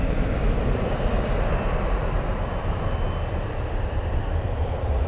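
Steady, loud broadband roar of a departing airliner bound for Dublin at Manchester Airport, a continuous engine rumble without pauses or voices.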